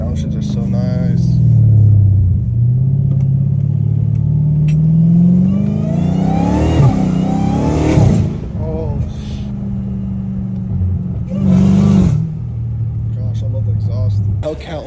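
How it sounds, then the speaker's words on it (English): A catless Dodge Hellcat Redeye rumbles loud and close at night, its engine dropping through several downshifts with rising blips and deep burbling swells between steady idle drone, while someone talks over it. "Dude, these downshifts are so nice."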